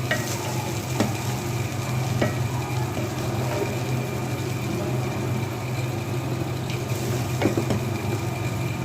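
Egg fried rice being stirred in a pan over a low flame, a steady bed of frying sizzle with a few sharp scraping strokes of the spatula at irregular intervals, close and fairly loud, no talking.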